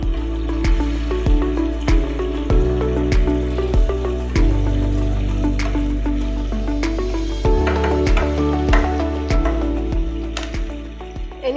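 A spoon scrapes and taps rhythmically through a sizzling paneer mixture with tomato ketchup in a pan, giving repeated sharp clicks over a steady, dense hum that continues throughout.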